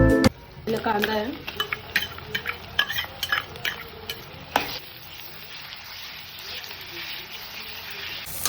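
Onion sautéed in oil is stirred in a pan for chole, with a steady sizzle under frequent metal spatula scrapes and clinks against the pan, and a voice speaking over part of it.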